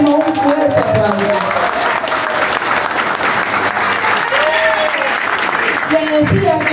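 Strong, sustained applause fills a hall at a campaign headquarters inauguration, dense clapping held at steady loudness throughout with a few voices calling out over it.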